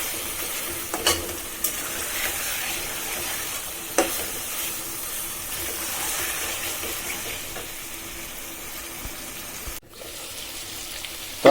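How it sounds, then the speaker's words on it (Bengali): Chicken pieces stir-fry in a pan without salt, giving a steady sizzle throughout with occasional spatula scrapes and knocks against the pan. "লবণ ছাড়া এগুলো ভালোভাবে কষায় ফেলবো"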